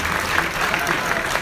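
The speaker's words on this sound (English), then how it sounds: "please join me in applauding our partners" Dense crowd applause fills a large award show hall at IIFA 2017, steady and loud throughout the short burst as the audience cheers the show's partners.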